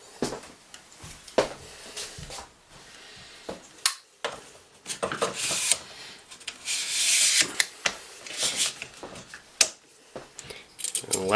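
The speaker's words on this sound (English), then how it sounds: "And we replace the buttstock." Rifle buttstock being slid back onto the buffer tube during a sling mount and buffer tube replacement, heard as close scraping, clicking and rubbing metal-and-polymer handling sounds in irregular bursts, with sharp clacks scattered throughout.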